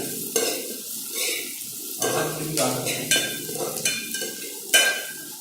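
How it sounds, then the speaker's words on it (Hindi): Finely chopped onions sizzling in a pan for dal khichdi, a bright crackling fry broken by repeated scraping stirs and spatula knocks against the pan, close and fairly loud. "प्याज को थोड़ा सा भून लेंगे"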